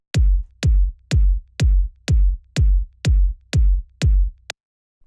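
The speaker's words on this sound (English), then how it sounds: "So this is just a very deep and punchy kick." Deep, punchy house-music kick drum struck nine times in an even, steady rhythm, each hit a loud booming thump with a quick decay, playing alone before stopping.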